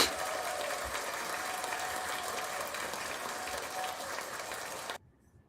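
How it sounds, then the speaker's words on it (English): Steady applause from a studio or event audience at a year-end celebration show, dense clapping held evenly for about five seconds before cutting off abruptly into near silence. "So let's give a round of applause to the show"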